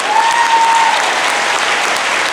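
A large audience applauds steadily at a live panel event in San Francisco, a dense continuous wash of clapping with a brief whistle near the start.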